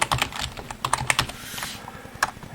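A command being typed on a computer keyboard while installing RetroPie on a Raspberry Pi 4, heard as a close, quick run of clicking keystrokes with brief pauses, no voices over it.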